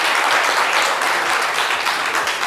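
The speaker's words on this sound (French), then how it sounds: "Est-ce qu'on peut l'applaudir bien fort, s'il vous plaît?" A crowd applauds loudly and steadily, a dense wash of clapping that holds at full strength throughout.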